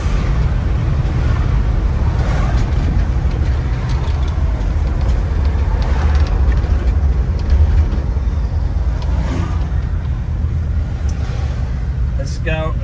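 A 1977 International Scout's engine runs steadily through an upshift into third gear on a test drive, a continuous low rumble with road and wind noise throughout and a voice talking over it.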